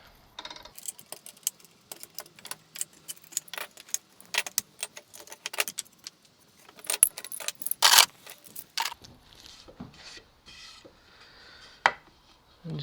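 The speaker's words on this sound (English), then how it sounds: "I'll get the clamps off and see what it looks like." Clamps come off glued guitar headstock veneers in a workshop, with scattered close metallic clicks, rattles and clanks in irregular bursts and a few quiet pauses.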